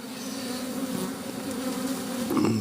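Honeybees buzz steadily and close at the frames of an open beehive, a dense continuous hum with no voices.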